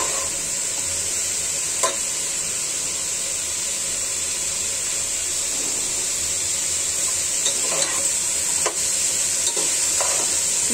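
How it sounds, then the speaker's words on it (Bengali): Raw jackfruit and raw banana with meat frying in a pan give a steady, even sizzle with a constant hiss, broken by occasional stirring clinks of a utensil against the pan. "এই তিনটা ভেজে নিচ্ছি ভালো করে।"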